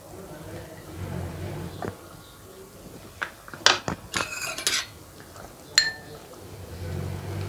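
A metal spoon clinks against a cooking pot while checking tender mutton for Peshawari namkeen gosht, with a few sharp scrapes and taps in the middle, a low kitchen hum underneath.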